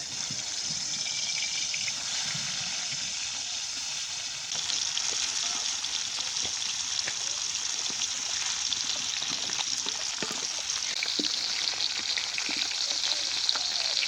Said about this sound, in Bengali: তেলটা তাইতে এসে মাছ দিয়ে দেবো।